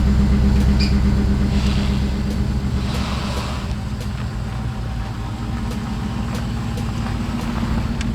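A Shoebox Ford car engine idling steadily just after starting, a close, even low rumble that holds for the whole stretch with no voices.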